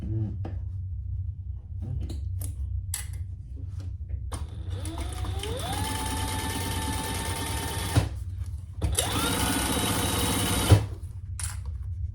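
A sewing machine bastes lining pieces together along the bottom edge, running in two bursts of rapid mechanical stitching with quiet handling noises and pauses between.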